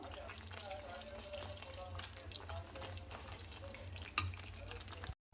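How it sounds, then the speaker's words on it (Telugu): Masala for a lotus seed (phool makhana) curry frying in oil in a pan, a steady close sizzle with scraping stirs throughout and one brief sharper clink near the end. "చూడండి, మసాలా అంతా ఫ్రై అయిపోయింది."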